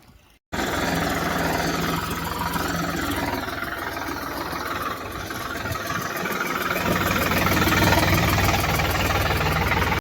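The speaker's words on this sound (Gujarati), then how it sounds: "આપણું ટ્રેક્ટર જવા હાલે છે ગાઈસ" Tractor engine runs steadily during land levelling, a close, loud mid-pitched chug with a rough knocking texture that grows slightly heavier toward the end.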